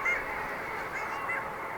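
Long-tailed ducks call offshore around the Shetland Isles, a continuous honking, nasal chorus of many birds at a steady, moderate level with no talk.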